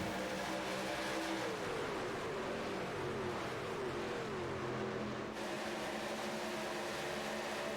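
Race trucks in a racing video game roar down the back straight at Atlanta, a dense engine whine with sweeping pitch rising and falling, steady and moderately loud throughout.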